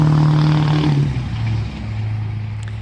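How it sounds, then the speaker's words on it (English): A loud truck drives past on a road near a home garden, a heavy engine roar that is strongest at first, then drops in pitch and fades as it pulls away. "oh, there's a loud car going by."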